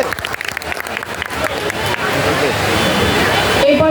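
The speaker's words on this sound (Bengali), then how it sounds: "হাততালি হাততালি" Applause from an audience at a school ceremony honouring teachers, a steady wash of clapping that builds and holds for several seconds with crowd murmur underneath.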